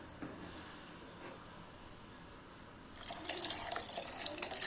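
Liquid pours into a cooking pot: faint handling noise gives way midway to a louder, continuous splashing pour that keeps going to the end, with no talking.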